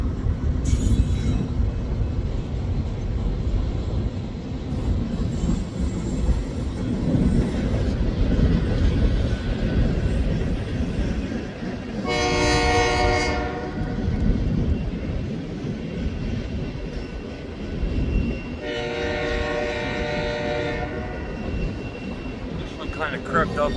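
A BNSF freight train rolls past at a Fremont, Nebraska rail junction, its loud continuous rumble filling the scene while two separate horn blasts sound through it. No speech is heard.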